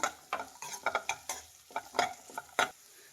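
Cashews fry and are stirred in a pan on medium heat for a dhaba-style paneer masala gravy, giving a series of short scraping stirs with light sizzle in between, close and fairly quiet, with no talking.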